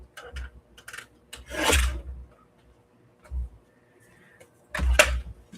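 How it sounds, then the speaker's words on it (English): Trimming the edge of a paper piece for a steampunk album journal, heard as three or four separate close rasping, scraping strokes, each loud and brief, with quiet gaps between them. "I'm going to trim this down a little bit on the edge so it'll fit in this pocket."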